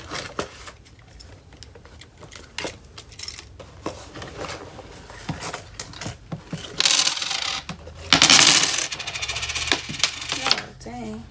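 Loose coins of change are pulled from a wallet, clinking and jingling close up in bursts, with louder metallic rattles near the end as pieces tumble and one drops.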